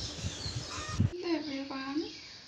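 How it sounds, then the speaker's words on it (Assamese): Birds call in the background outdoors, with a crow-like caw and other calls standing out clearly, some near and drawn out, over a low ambient hum. "এই চৰাই চিৰিকটিৰ মাতবিলাকে ৰাখিছোঁ"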